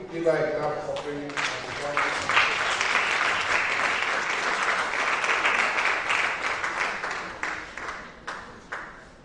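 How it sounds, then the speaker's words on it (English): Audience applause at a World Thrombosis Day event, opening under a speaking voice, then swelling into a dense, steady crowd clapping that thins out toward the end with a few scattered claps. "can we give her a clap for bringing"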